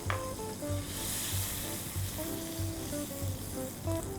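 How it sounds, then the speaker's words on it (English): Butter melts and sizzles gently in olive oil in a Pro X frying pan over medium heat, a steady soft crackle with faint repeated ticking throughout. "heat my Pro X frying pan up to a medium heat, and then we'll add some olive oil, generous amount of olive oil, and a generous knob of butter"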